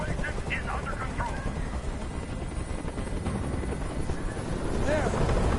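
Helicopter hovering overhead in the video game Detroit Become Human, a steady loud rotor drone filling the whole scene with faint voices underneath.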